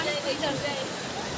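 River water flowing with a steady, broad rushing wash that stays even throughout, with faint voices underneath.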